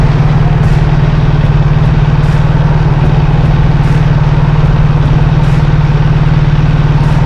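Steady drone of a BMW R1300 GS motorcycle engine under way with an automatic gearbox, loud and constant with a low hum and rushing wind and road noise.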